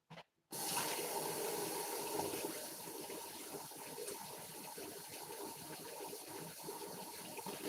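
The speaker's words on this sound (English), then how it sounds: "Let the water run for a minute to get it hot." Water gushes steadily from a tap into a sink, a continuous broadband rush after a brief click at the start, loud and close.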